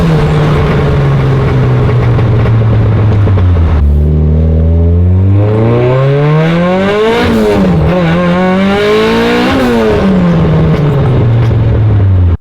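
A modified turbocharged car with a newly fitted boost control engine revs hard and continuously at close range, its pitch climbing, dropping and surging again in loud, sweeping waves with no pause.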